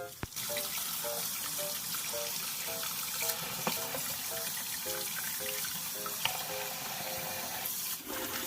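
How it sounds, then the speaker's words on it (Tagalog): Tap water runs steadily while beef neck bones are rinsed one by one in a sink after their first boil, a continuous close splashing wash with faint clinks throughout. "Linisin natin isa-isa para po matanggal natin yung mga dumi na kumapit sa kanya sa unang kulo ng ating beef neck bone."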